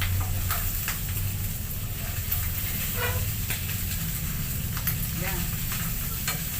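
Pork adobo sizzles and hisses steadily in hot oil as a utensil stirs it, with scraping strokes and brief crackles repeating at close range, and a voice briefly speaks.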